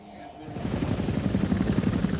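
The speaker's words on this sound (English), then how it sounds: "Orders were passed to a flight of 4 Cobra helicopter gunships stationed at a makeshift airbase near the" A flight of Cobra helicopter gunships takes off from a makeshift airbase near the Kuwaiti border, a steady rotor thrum building in loudness and pulsing rhythmically, with a voice speaking over it.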